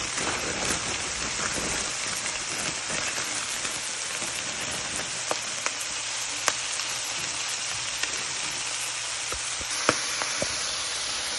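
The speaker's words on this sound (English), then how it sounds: "now that the pork is ready, I'm going to add 2 bags of the coleslaw" Coleslaw cabbage hitting cooked pork in a hot pan, giving a steady, loud, close sizzle like rain on a surface, with a few small pops and crackles throughout.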